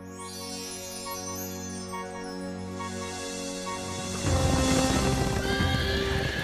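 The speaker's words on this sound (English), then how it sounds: "The king's horses." The king's horses, Solomon's, whinny with ringing neighs over a steady clip-clop of hooves, the trotting growing louder and busier near the end, with no voices.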